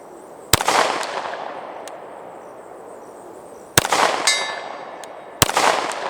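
Three sharp gunshots from a Canik TP9 Elite SC pistol firing 115 grain rounds, each followed by a ringing clang from a 100 yard steel silhouette target; the last two shots come close together.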